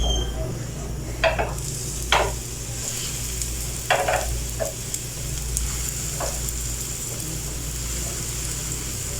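Bread slices for shahi tukray fry in a pan, giving a steady low sizzle with a few sharp clicks and scrapes of a utensil spaced through it, close and fairly quiet, with no speech.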